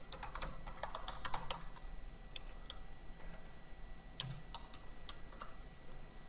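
A web address being typed on a computer keyboard: a quick burst of close, crisp keystrokes, then sparser taps and clicks spread over several seconds, fairly quiet with no talking.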